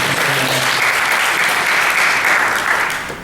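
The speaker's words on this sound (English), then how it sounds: "one more round of applause" Round of audience applause at the 2016 World Energy Forum, a dense, even wash of clapping filling the hall, holding steady before tapering off at the end.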